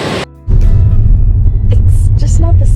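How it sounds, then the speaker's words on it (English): A powerful waterfall in Norway roars from its base, a loud, dense, steady wash with heavy low rumble that swells in after a brief quieter moment at the start. "This spot down at the base gives you a perfect perspective of just how powerful this waterfall really is."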